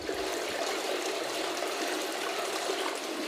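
Water trickles and streams steadily inside a flooded old copper mine, a continuous broadband rushing that stays even and fairly close throughout, with no voices.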